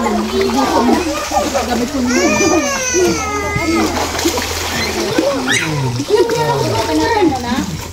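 Swimmers splash and slosh in a river in Barangay Ilog, close and continuous, while children and adults talk and shout excitedly over the water.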